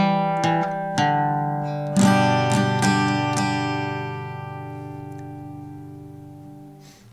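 Guitar plays the second lick of a song: a handful of clearly picked single notes and chord tones that ring out and slowly decay, close and alone with no talking.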